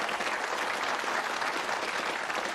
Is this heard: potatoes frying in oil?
no